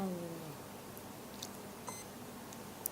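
Short, faint electronic beeps chirp sporadically from a LiPo battery checker testing a Hubsan 501S Pro drone battery, sparse and quiet over a low background hiss.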